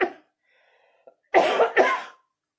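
Two harsh, close coughs in quick succession follow a brief breath, with near silence around them.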